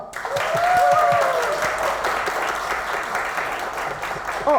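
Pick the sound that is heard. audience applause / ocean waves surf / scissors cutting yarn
audience applause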